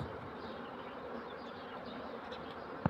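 Honeybees buzz around an opened hive during a split, a steady dense hum of many insects close by, with a faint knock of wooden frames near the end and no talking.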